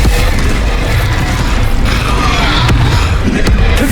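Loud magical fire spell, Incendio, cast in the video game Hogwarts Legacy: a continuous fiery roar and crackle with sharp bursts and impacts layered throughout, close and dense.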